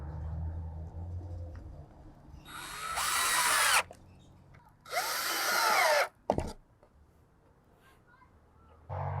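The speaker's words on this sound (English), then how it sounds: "Now we're gonna put the other drill thing on." A power drill driving screws into a wooden KidKraft Lakeside Bungalow playhouse, two loud whirring bursts of about a second each with a short third spin and a final start, separated by quiet and some faint talk.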